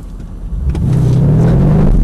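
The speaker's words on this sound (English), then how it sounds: "what I want is a good firm acceleration" A Mercedes-AMG car in Sport Plus mode accelerates hard on a driving-experience track at Brooklands, its engine note climbing into a loud, close, rising rumble.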